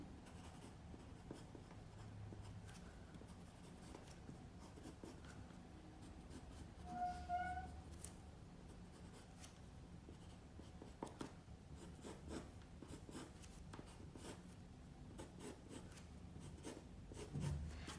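Pencil tracing a figure onto thin tracing paper laid over a drawing of a fur jacket, a steady soft scratchy rub that continues throughout with small strokes and pauses, close and quiet with no talking.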